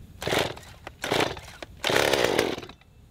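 A Stihl MS 194T top handle chainsaw, choked and with the chain brake on, sputters through three quick pull-start attempts, each a short rough burst of engine noise, with the last lasting longest.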